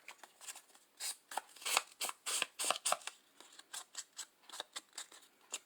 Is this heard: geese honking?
no